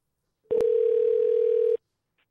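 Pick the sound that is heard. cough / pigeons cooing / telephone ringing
telephone ringing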